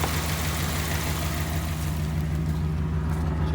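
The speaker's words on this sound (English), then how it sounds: "You can hear the exhaust. So you know it's running." A 1993 Dodge Dakota engine runs on gas vapor only, giving a steady, loud exhaust rumble with a constant hiss and no clear changes in pace.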